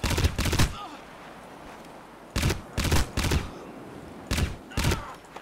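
Gunfire in the video game Crysis, short automatic bursts fired in several separate volleys with quiet gaps between them.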